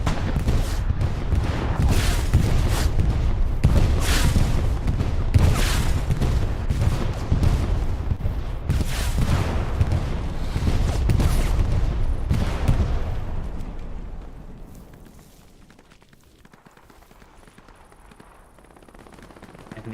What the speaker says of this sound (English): another Katusha strike does come in from PzLD. See all the bombs approaching in.